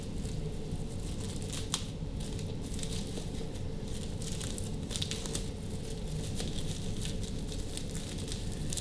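Plastic wrap crinkling and rustling steadily as dried mangoes are stacked and wrapped, close and continuous, with scattered sharp crackles.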